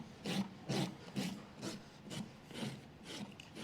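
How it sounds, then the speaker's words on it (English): A hand rasp files the edges of a horse's hoof during a barefoot trim, with about eight rhythmic rough strokes at an even pace, close and fairly quiet, and no talking. "So you see the angle of my rasp is tipped sideways like this."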